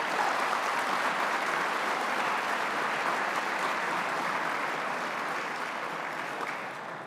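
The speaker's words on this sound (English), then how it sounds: "So how about a round of applause for all of these folks?" Sustained applause from a large audience at an economy and monetary policy event, a dense steady wash of clapping that holds for several seconds and eases slightly toward the end.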